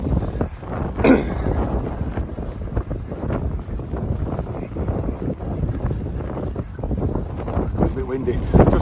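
Gusty wind buffets the microphone during a countryside walk along a lane past greenhouses near a village, a steady low rumble with louder bursts throughout.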